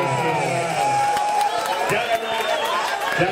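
A crowd at a sonidero dance party anniversary event cheers and whoops loudly, with shouting voices and scattered clapping mixed into a dense, close roar of noise.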